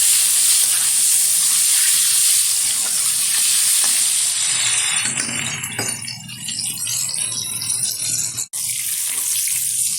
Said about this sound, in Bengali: পটলটা একটু ভালোভাবে ভেজে নেব।